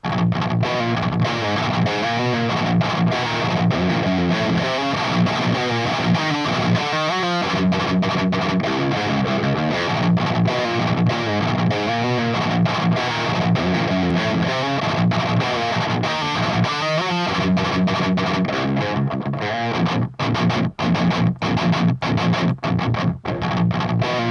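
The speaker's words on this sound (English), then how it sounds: "when I engage the screamer, you get more control of the low end and some more bite to the tone" Loud overdriven electric guitar through a Bulldog Super Lead amp sim with a tube screamer pedal riffs with tight, punchy low end and biting mids, steady throughout with short staccato hits toward the close.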